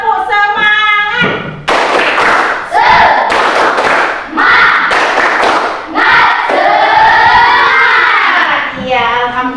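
A group of children doing a rhythmic spirit clap during an ice-breaking activity in an Islamic lesson, loud patterned claps and thumps mixed with chanted voices in bursts.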